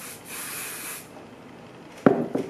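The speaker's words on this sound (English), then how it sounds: "First spray, just to comb everything down." A hairspray can hisses in a steady spray of about a second onto hair being styled for dance, followed by quieter handling noises and a brief rustle.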